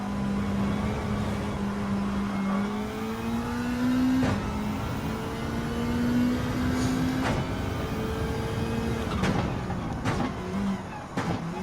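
Race cars in the Gran Turismo 7 video game, including Lancer Evos and a Subaru Impreza, drone and rev through engine notes that rise and fall steadily, with gear-change dips and passing engines, continuous and moderately loud.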